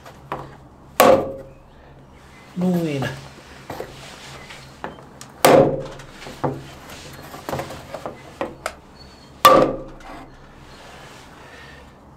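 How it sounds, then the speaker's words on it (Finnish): Wooden dowels for a balcony table are driven in with a hammer, giving three sharp, close wooden knocks spaced a few seconds apart, with someone talking in between and some lighter handling clatter. "Mä lyön tänne vasaralla"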